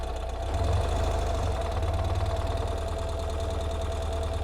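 A Ural motorcycle with sidecar and two-wheel drive pulls in second gear, its boxer engine giving a loud, steady, low throbbing pulse with a knocking rhythm throughout and no talk.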